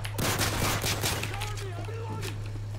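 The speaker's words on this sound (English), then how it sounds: "I fired an entire mag into that guy" A quick burst of machine-gun fire in the Modern Warfare 3 video game, rapid shots in a short rattling volley followed by fading game effects over a low steady hum, close and loud.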